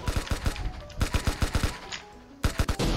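Rapid bursts of automatic gunfire from an SMG in the Roblox shooter Arsenal, several tight volleys of sharp shots separated by brief pauses, loud and close.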